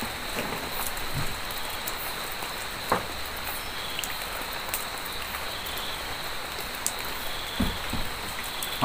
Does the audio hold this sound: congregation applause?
no